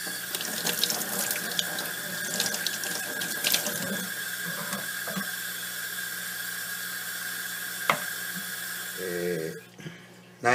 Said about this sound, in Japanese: 内臓を入念に洗って、もっとこの辺きれいに洗おうかな。